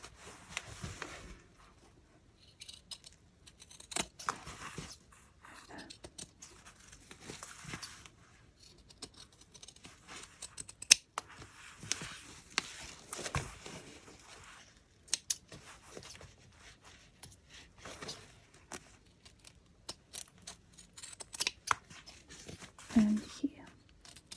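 Small scissors snipping the fabric corners of a sewn soft junk journal cover, a run of quiet, crisp cuts spread throughout, with soft rustling of cloth and intermittent talking.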